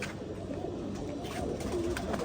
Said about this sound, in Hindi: ये सब रामपुरी गहरे गजरे कबूतर।